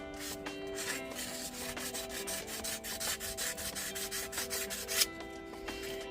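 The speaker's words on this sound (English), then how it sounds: "Another thing you can use is some sandpaper. This is 220 grit." Sandpaper of 220 grit rubs back and forth over a mobile dolly wheel in quick, steady scratchy strokes, close up with no voices.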